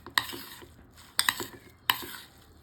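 Coriander stirred into chopped onions in a pan while making besan chila: three distinct scraping, clattering stirs about a second apart, close and fairly quiet, with no talking.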